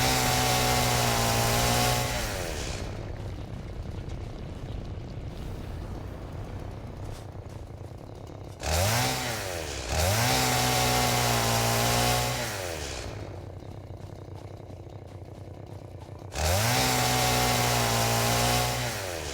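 A chainsaw in the video game Satisfactory runs loudly with no talk over it, revving up into three high bursts around steadier idling stretches, its engine whine rising and falling in pitch.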